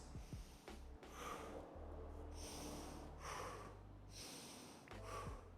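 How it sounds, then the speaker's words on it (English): Deep belly breaths, three slow audible inhales and exhales in a steady rhythm, close and fairly soft with faint background hum. "We're going to take 3 nice breaths."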